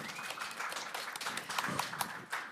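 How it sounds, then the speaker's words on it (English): Audience applause at a startup demo day presentation event, a short burst of scattered clapping from a moderate crowd, fairly quiet and somewhat distant, with no talking. "Please give him a round of applause"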